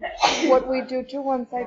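A single sharp sneeze, then a person starts talking.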